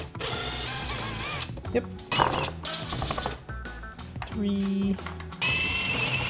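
A power tool whirs in short bursts, undoing screws on an Arctic Cat Catalyst 858 snowmobile, mixed with clicks and handling noise in a close workshop while someone talks and counts.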